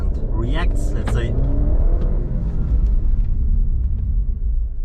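A 2023 facelift Alfa Romeo Giulia Competizione pulling away, its engine rumbling low and rising as it accelerates from inside the cabin, with a brief voice or chirp near the start over a steady loud drone.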